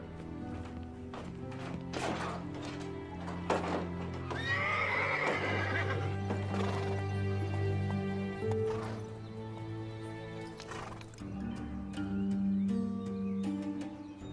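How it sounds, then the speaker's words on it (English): Horses in a Western movie scene neigh and whinny loudly, with hooves clip-clopping in a steady rhythm. The sound is layered over a sustained musical score and rises and falls across the scene. "That's Frank James's horse, all right."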